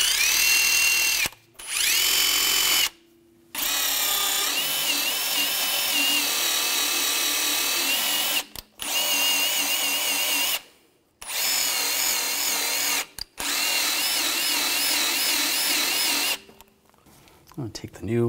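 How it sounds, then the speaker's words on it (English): A power wire brush on a drill whirs loudly against Audi A4 Quattro CV axle parts in short repeated bursts, a harsh high grinding buzz broken by brief pauses between passes. "Just using a wire brush."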